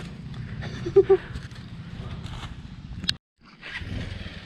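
A motorcycle rides a mountain road between Deurali and Markhu, its engine a steady close low drone with a couple of louder bursts before the sound briefly cuts out and then resumes.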